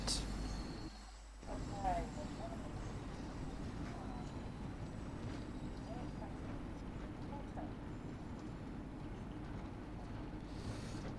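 A passenger train pulls into Queen's Park station in the Train Sim World 2 video game, with a steady, close rumble that runs unbroken from start to finish.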